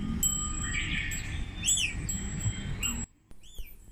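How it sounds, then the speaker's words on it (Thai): Owls at an owl cafe in Tokyo give short, high chirping calls over a busy indoor room hum, a few distinct calls close together, then a brief quieter moment with one more faint call. "Can you hear the owl"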